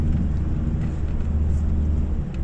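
Inside a car on a gravel road near the Huai Khok Mu campsite in Suan Phueng, Ratchaburi, a low engine and road rumble drones steadily and close, with faint rattles and no talking.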